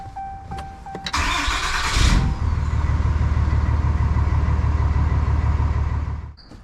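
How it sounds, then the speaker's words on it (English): A 2019 Ram 3500 Cummins diesel truck engine cranks briefly, catches with a loud surge, then settles into a steady low idle rumble for several seconds before cutting off, heard up close. "So now we're gonna turn the truck on and let it run for like 10 seconds"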